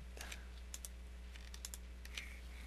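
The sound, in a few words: computer mouse clicking and keyboard Control key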